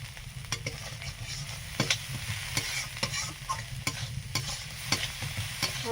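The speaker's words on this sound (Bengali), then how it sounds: "মশলাটা কষানো হয়ে গেলে এর মধ্যে একটু লবণ পরিমাণ মতো দিয়ে আবারও কষিয়ে নিচ্ছি একটুক্ষণ" Spice paste for an eggplant and hilsa fish curry sizzles in a pan with salt added, under a steady frying hiss punctuated by sharp scrapes and taps of a spatula stirring it.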